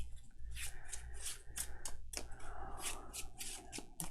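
A deck of Arkham Horror LCG cards being shuffled by hand, a fast run of crisp riffling snaps and slides close by, steady for several seconds with no talk.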